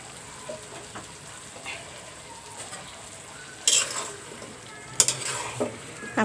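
Beef, fried in oil beforehand, is added to a pan of cooked-down spice masala. Soft sizzling runs under sharp scraping and stirring, with louder clattering bursts near the end.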